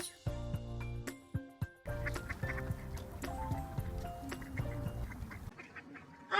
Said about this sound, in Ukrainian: Крижень це найпоширеніша дика качка.